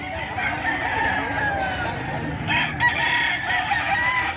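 Roosters of the sweater breed crow at a busy Bocaue chicken market, a couple of loud crows and clucks rising over steady crowd hubbub and nearby chatter.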